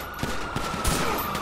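Rapid automatic gunfire in the video game GTA 5 Online, a short burst of repeated cracking shots over a busy, loud game background.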